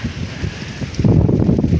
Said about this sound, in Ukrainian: Ой, вітер який, друзі.